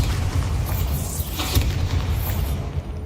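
A Bombarda blast spell in Hogwarts Legacy erupts as a deep, rumbling boom with a sharp burst near the middle, set against dense, continuous low-end game rumble throughout.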